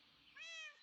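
A cat meows once inside the Minecraft video game, a single drawn-out, rising-then-falling harmonic call that is clear and fairly close, with no talking over it.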